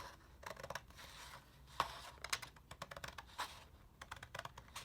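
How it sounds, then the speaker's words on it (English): Scissors trim the ragged paper edge of an altered book page in a run of quiet, close, crisp snips and cuts, irregularly spaced, with soft paper rustling between them. "I'm going to also trim up the side here and get rid of that jaggedy edge"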